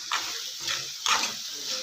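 Vegetable pasta with capsicum and chillies being stirred in a pan after red chilli powder is added, a few soft scraping strokes over a faint background sizzle, close and without talk.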